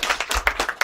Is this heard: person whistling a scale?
no